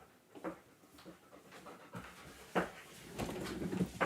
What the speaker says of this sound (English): my dog is sitting here by feet, and she's knocking everything over